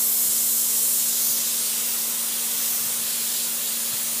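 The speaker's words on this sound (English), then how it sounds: "It gives me the opportunity to increase or decrease my air pressure without having to get underneath the table and lower the pressure right on the compressor." Compressor-fed air spray gun spraying paint onto MDF, heard as a steady, close, loud hiss of atomized air that runs unbroken for the whole stretch, with no voices.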